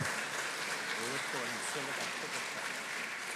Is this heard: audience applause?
yes